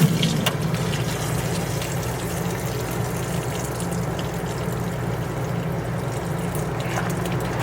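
Water and pressure rush out of RV plumbing as the system is bled after the supply is shut off, a steady loud hiss and splash that holds at an even level throughout, with a few small knocks on top.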